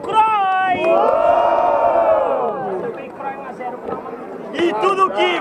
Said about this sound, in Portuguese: quem gostou das rimas do WG e da Sofia faz muito barulho